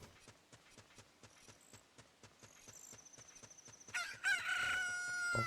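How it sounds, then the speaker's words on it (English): A chicken from Ocarina of Time hatches and crows a loud cock-a-doodle-doo, after steady clip-clop horse hooves and a few small chimes. "a chicken hatched from the egg you were incubating"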